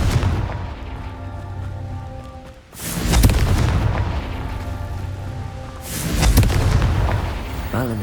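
Two loud, fiery blasts of the Confringo spell in Hogwarts Legacy, each a broad booming burst over the game's ambient sound, the first at about three seconds and the second at about six.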